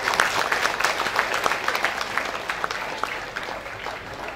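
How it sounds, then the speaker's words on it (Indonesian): Audience applause for SMA 6 at the Mineral Cup 2016 school event, a loud, dense round of clapping from a crowd that holds steady and tapers slightly toward the end. "Itu kita berikan aplaus kepada SMA 6 ini."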